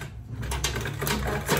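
A sewing machine stitches a quilted tote bag with a steady, fast mechanical whirr running continuously and close by.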